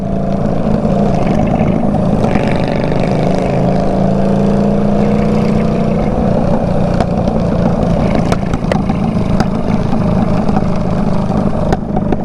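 A deep, throaty Honda Shadow Bobber motorcycle with a modified muffler rumbles steadily nearby, idling loud and low with slight revving, with traffic noise around it.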